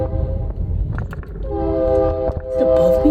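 A train rumbles by nearby with a deep, rolling clatter, and a sustained horn joins midway and holds loud to the end, sounding close and dominant.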